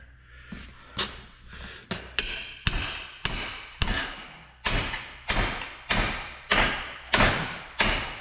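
Repeated metallic hammer blows on a locked-up Small Block Chevy engine's parts during teardown, about a dozen strikes, each ringing briefly, becoming steady and evenly spaced after an irregular start.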